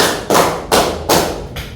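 Four loud, evenly spaced claps ring out in a classroom clapping game, each a sharp slap followed by a short decaying tail, the last one softer.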